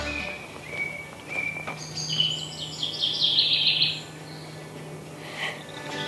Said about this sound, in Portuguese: Os passarinhos conversando, falando sobre política, sobre guerra.